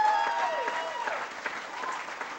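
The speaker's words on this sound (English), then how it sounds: "Give them all a big round of applause." Steady applause from a crowd at a rock show fills the space, with a lone voice rising briefly over the clapping.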